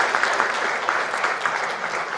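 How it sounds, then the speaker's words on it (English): Audience applause at a technology investment panel on the Fourth Industrial Revolution, a steady dense round of clapping from a crowd, moderately loud and continuous throughout with no voices over it. "Please welcome him with a warm round of applause."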